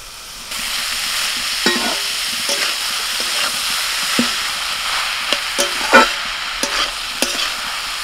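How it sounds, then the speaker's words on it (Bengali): Boiled cabbage goes into a pan of potatoes frying with spices, giving a steady close sizzle broken by scattered clinks and scraping stirs from a utensil against the pan. "এখন সিদ্ধ করা বাঁধাকপিটা দিয়ে দিচ্ছি।"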